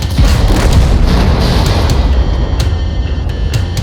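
Heavy rumbling crash of a tank ramming an enemy tank at high speed in World of Tanks, dense low booming noise sustained throughout with a few sharp metallic clicks near the end, loud and close.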